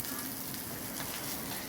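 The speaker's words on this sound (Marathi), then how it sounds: "इकडे आपली ही एक्स्ट्रावाली दुसऱ्या फेऱ्यातली कारली मस्त फ्राय होत आहे" Bitter gourd (karela) pieces frying in an iron pan, a steady, dense sizzle and crackle of hot oil that runs continuously and fairly close without any talking.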